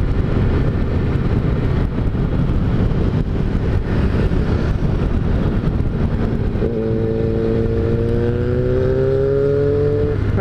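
A rumbling Yamaha XJ motorcycle engine idles and drones steadily, then revs up with a rising whine near the end, close and loud, during a group motorcycle ride.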